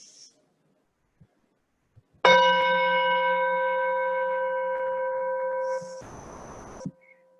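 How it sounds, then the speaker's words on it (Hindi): A single bell is struck once, ringing out clearly and sustaining a long, slowly fading tone before a brief burst of noise ends it. "अब आपके लिए प्रेम से, आपके आनंद के लिए हम घंटी बजा दें।"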